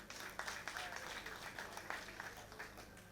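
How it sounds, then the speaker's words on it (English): A crowd claps steadily for a few seconds, a dense patter of many hands at moderate distance, with no voices over it. "We have to clap. I think we should clap for that."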